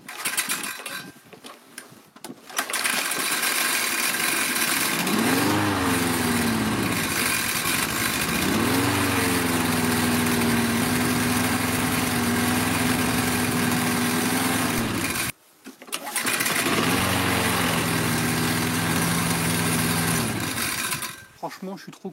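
A repaired lawn mower engine, its carburetor just serviced, runs at a steady drone, stops briefly, then runs again with a rising and settling pitch. A person talks over it in places.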